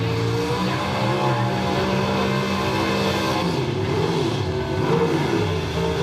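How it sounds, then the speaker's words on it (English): A drag racing car rolls into the arena at The Bend, its engine a loud, continuous, rumbling idle with shifting revs that holds throughout, close by and unbroken. "Car enters the arena."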